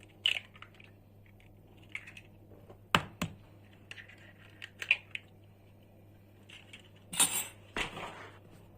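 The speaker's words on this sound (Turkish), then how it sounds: "Yumurtamı kıracağım." A few sharp cracking taps, then a squishy wet sound near the end, close up in a quiet kitchen with a steady low hum.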